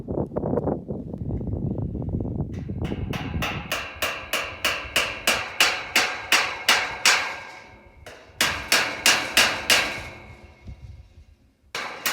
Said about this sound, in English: if I get my hammer and hammer it in on this side